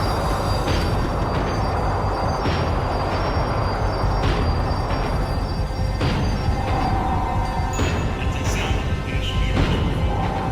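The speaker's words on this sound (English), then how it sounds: "The tram was slowing down, and I'd only just gotten on board." A tram slowing down in the video game Max Payne 3, with continuous rumbling rail noise, clanking wagons and occasional wheel squeals running loudly and steadily throughout.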